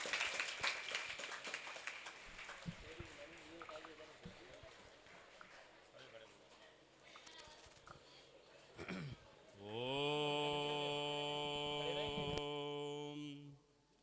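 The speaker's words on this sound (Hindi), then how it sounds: "एक बार जोरदार तालियों से हम शास्त्री जी का स्वागत करते हैं" Applause rises to welcome a speaker at an upanayana ceremony held by the Akhil Bharatiya Dayanand Sevashram Sangh. Moderate clapping at the start fades, and a long, steady tone follows.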